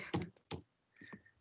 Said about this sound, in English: I'm just wondering who's doing all the typing